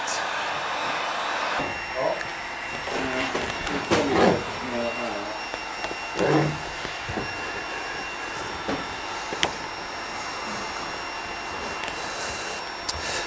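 A heat gun runs continuously, a steady blowing hiss while vinyl wrap is warmed on a classic Porsche 964, with someone speaking briefly over it partway through.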